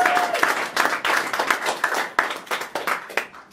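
Audience at a stand-up comedy show clapping, a loud, dense burst of applause that swells and pulses in uneven waves, fairly close.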